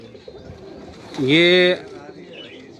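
A large pigeon on a Karachi rooftop gives one loud, close, drawn-out coo lasting about half a second, amid faint background noise and a brief spoken word.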